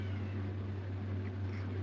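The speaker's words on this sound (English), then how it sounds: "My cat's not locked up. She is crying because she wants my food." A cat cries for food with a drawn-out, faint meow, set over a strong, steady low hum that fills the background.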